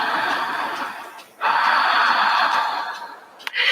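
A deep breath during a yoga session: long, airy inhale and exhale sounds close to the microphone, breathy and steady with a brief pause partway through, without speech.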